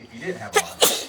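Two sharp sneezes come in quick succession, close and loud, right after a line of speech.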